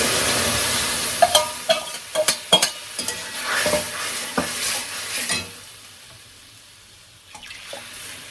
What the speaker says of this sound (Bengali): তো চলুন ডালটা ঢেলে দিই